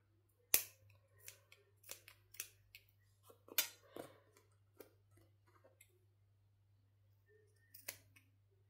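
Scissors snip through paper in a craft setting, a series of sharp, close, irregular cuts with short pauses between them, quiet and without talk.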